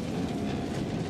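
A subway train rumbles past in the film National Treasure, a steady, dense low roar with a faint rattle that stays loud and even throughout, with no voices.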